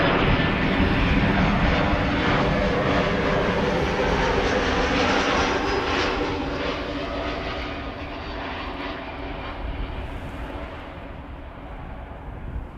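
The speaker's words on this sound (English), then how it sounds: "That's an A319." An easyJet Airbus A319 jet airliner from Liverpool arrives at Amsterdam Schiphol with a loud, broadband engine roar that peaks early, then slowly fades as it passes.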